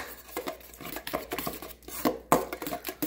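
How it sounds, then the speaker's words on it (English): A spoon is picked up from among dishes, giving light clinks and rattles of cutlery against crockery, close and moderately loud, with several brief knocks across the moment. "Let me grab my spoon."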